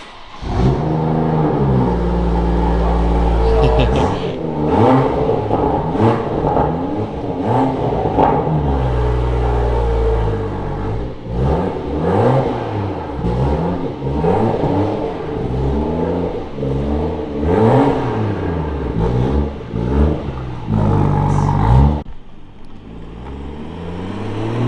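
Car fitted with a Remus cat-back exhaust and carbon tailpipe, revved repeatedly at close range, the engine climbing and dropping in a series of loud blips and rasps before settling to idle, with no speech.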